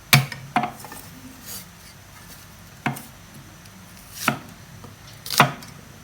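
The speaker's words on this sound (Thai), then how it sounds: "แต่ก็จะทุบตะไคร้ใส่ลงไปด้วยค่ะ" Lemongrass stalks are crushed for tom yum with pork leg, five sharp separate thumps on a board with long pauses between them, close and loud with no talking.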